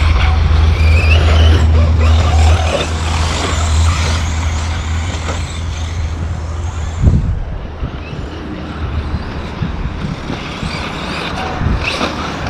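Radio-controlled truggies race around an outdoor track, a loud buzzing whine of small engines that swells and fades as the cars pass, with a sharp clack near the middle and steady background noise.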